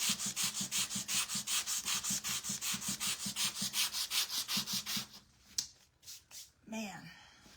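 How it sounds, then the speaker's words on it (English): Vigorous sandpaper sanding in fast, even strokes, about three per second, close and loud, then stopping as a voice speaks briefly near the end. "I've really used up this piece of sanding paper from just the other day"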